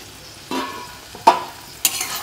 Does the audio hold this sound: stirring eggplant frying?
yes